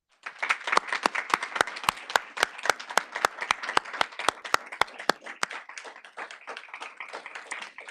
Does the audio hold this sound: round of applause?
yes